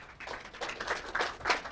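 A small audience at a fireside chat event claps briefly, a short burst of scattered hand claps that rises toward the end, with no talking over it.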